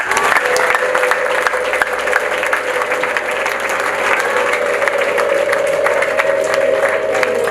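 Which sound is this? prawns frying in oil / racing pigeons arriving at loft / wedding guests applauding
wedding guests applauding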